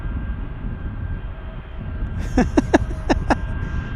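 A CRJ-200 regional jet, also called a Challenger, passes with a steady low engine roar under faint background noise, joined near the end by a few short sharp clicks.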